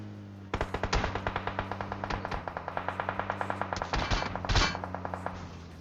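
Rapid automatic gunfire in PUBG Mobile, a long steady burst of evenly spaced shots over a humming background, ending in a few louder blasts.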